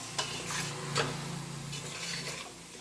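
A spoon stirs and mixes ingredients for chicken biryani in a cooking pan, the contents sizzling gently underneath; soft scraping strokes recur in an irregular rhythm at close range, with no voices.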